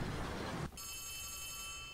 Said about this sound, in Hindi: फोन आ रहा है किसी का मेरे पे।